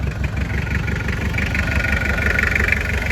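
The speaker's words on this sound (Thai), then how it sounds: "เรามาดูเสียงเครื่อง หลังจากที่เปลี่ยนชับไปแค่สูบหนึ่งครับคู่เดียว" A 2-litre van engine with a noise fault idles steadily and close by after valve shims were replaced on one cylinder, a continuous low rumble with a fast, even chugging pulse and a faint high whine over it.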